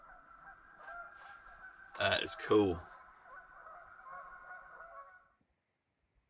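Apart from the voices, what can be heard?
geese honking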